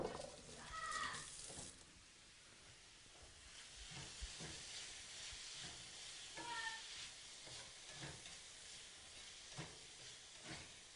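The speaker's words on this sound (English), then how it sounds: "I'm just going to saute enough to get the onions translucent" Onions sauteing in a pan on high heat for venison and beef chili, giving a steady close sizzle and hiss with occasional stirring scrapes, no talking.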